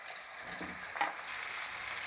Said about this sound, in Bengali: একই তেলে এঁচোড়গুলো আমি ভেজে নেব।